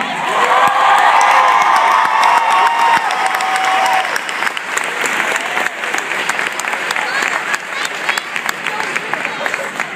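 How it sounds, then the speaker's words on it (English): Loud, sustained applause and cheering from a crowd at a school basketball celebration honoring the Norwalk Truckers' 2014 state champion team, with shouts and whistles rising early, then dense clapping for the full stretch. "Give a round of applause."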